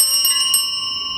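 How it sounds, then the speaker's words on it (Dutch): A small church altar bell rings with a bright, sustained metallic tone, struck a couple of times near the start and then fading away alone. "Ja, en dan hebben we tenslotte nog dit belletje. Het altaarbelletje."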